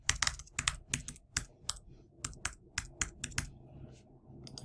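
Typing on a computer keyboard while entering a password, with quick bursts of crisp key clicks separated by short pauses, close up and alone.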